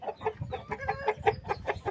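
Roosters give a steady run of rapid, throaty clucks in a busy outdoor pen, the notes rising and falling in a loose repeating rhythm over low background noise.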